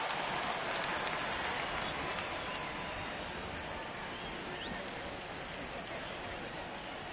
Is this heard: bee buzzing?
no